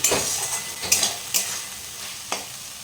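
Tomatoes fry in a pan with a continuous sizzle, broken by several sharp spatula scrapes and clinks against the metal as they are stirred close by.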